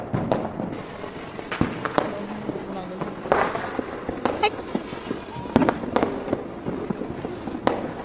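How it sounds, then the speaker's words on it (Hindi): Firecrackers set off by children during Diwali pop in scattered sharp bangs and crackles, some near and some farther off, with voices and festive commotion around them. "यहाँ पर देखिए बच्चे लोग पटाखे को खेल रहे थे और मस्ती भी कर रहे हैं।"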